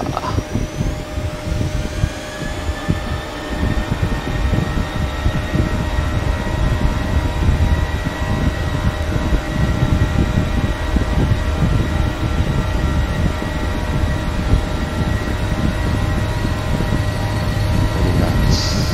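Airliner engines spooling up to takeoff thrust in a Prepar3D flight simulator on a T'way Gimhae to Jeju flight, a steady loud roar with sustained tones and low rumble that holds throughout.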